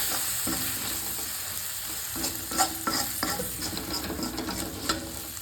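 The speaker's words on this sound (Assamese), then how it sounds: "মছলাটো পূৰা মানে তেলতে ভাজি ল'ব লাগিব আপুনি" Spice paste for a mutton curry fries in hot oil with a dense, steady sizzle, while a spoon scrapes and taps the pan in an irregular run of stirring strokes.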